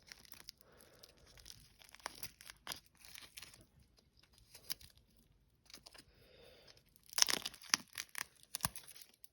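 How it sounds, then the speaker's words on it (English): Thin plastic protective film peeled off the case of an Exciton II watch, heard as scattered close crinkles and short tearing bursts, louder near the end, with no talking. "Let me get this head covering off, case covering"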